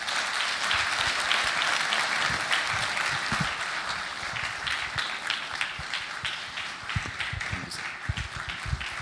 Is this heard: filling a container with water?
no